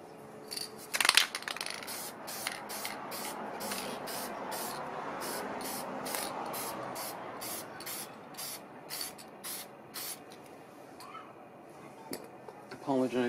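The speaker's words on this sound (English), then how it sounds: "let me just use the workable fixatif on all three of these ones right here." Krylon workable fixatif is sprayed onto stamped cards in a quiet room, a soft continuous aerosol hiss lasting several seconds, with small clicks and taps before and after.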